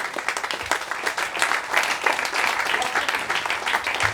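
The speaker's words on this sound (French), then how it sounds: "sous vos applaudissements, nous accueillons Gilbert Pagot" Audience applause welcoming a lecturer at a conference on the 1822 revolt in Le Carbet, Martinique: steady crowd clapping throughout, moderately loud and even.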